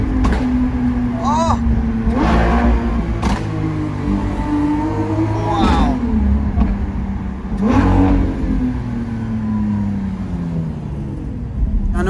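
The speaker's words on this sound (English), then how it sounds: "It was just so that we could hear this beautiful Balboni exhaust." Lamborghini Aventador SVJ fitted with a Balboni exhaust, heard as a loud, close engine that revs and rises in pitch in repeated sweeps over about twelve seconds, with sharp bursts between them and steady street noise underneath.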